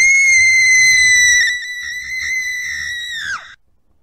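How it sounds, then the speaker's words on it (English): A long, loud, high-pitched scream in the SCP-018 video game, held steady for over three seconds before bending downward and cutting off abruptly, with no speech over it. "Was like world's cheesiest scream."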